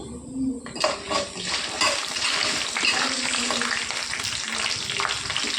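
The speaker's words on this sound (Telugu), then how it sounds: "ఎండుమిరపకాయలు వేసుకుందామండి." Dried red chillies and mustard seeds frying in hot oil for lemon rice, a steady loud sizzle with crackling spurts and a brief stir near the start, no voice.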